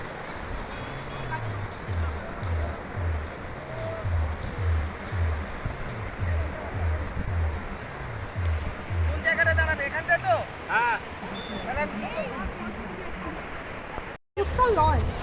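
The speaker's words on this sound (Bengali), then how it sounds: "বিশাল লঞ্চ" Large passenger launch boat on a river, its steady low engine throb pulsing beneath continuous water wash, with a brief louder stretch midway before a short cut.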